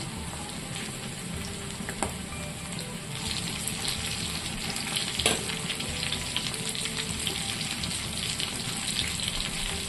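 Prawns fry in hot oil in a pan, giving a loud, continuous, close sizzle and bubbling crackle with a few sharper pops, steady from start to finish with no talking.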